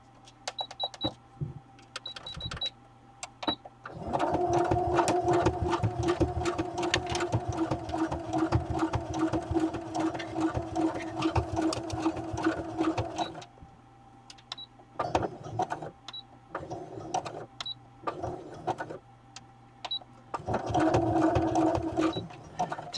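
A sewing machine runs fast in long bursts with short pauses between them, doing loose, messy free-motion stitching across the edges of a handmade ring-binder cover. A steady background hum stays underneath throughout.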